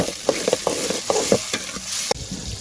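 Tomatoes frying and being stirred in a pan for mutton sukka, steady close sizzling with a run of irregular scraping and clinking strokes from the stirring spoon.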